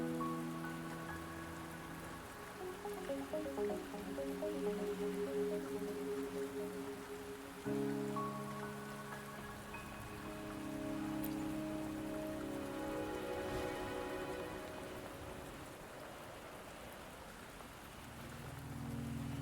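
Steady rain falls in the video game Wuthering Waves, a continuous soft patter beneath a bed of sustained musical tones that swell and shift, with no voices present.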